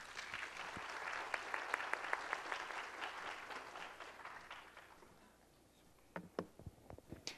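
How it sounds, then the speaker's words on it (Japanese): Sustained applause from a symposium audience welcoming a speaker, dense clapping that fades out, followed by a few scattered louder claps near the end. "それでは皆様どうぞ大きな拍手でお迎えください"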